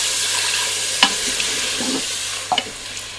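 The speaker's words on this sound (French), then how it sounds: "Donc là je vais mouiller avec du vin blanc" White wine poured into a hot pan with browning beef for a beef and carrot stew, a close steady sizzle and hiss with a few clinks and stirring scrapes.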